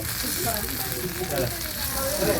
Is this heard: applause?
no